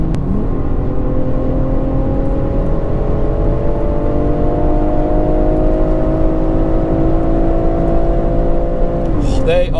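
Car accelerating with an aftermarket exhaust, a loud continuous engine note rising steadily in pitch across the whole stretch, close and dominant, ending in a brief shift near the end.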